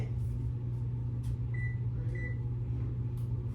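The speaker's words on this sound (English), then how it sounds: "turn your oven on to 350 degrees" An oven being switched on and set to 350 degrees gives two short electronic beeps over a constant low appliance hum.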